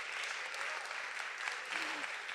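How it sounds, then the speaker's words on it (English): Sustained audience applause fills a hall at a women's forum in Rome, steady and dense with no pauses. "Please applaud them very,"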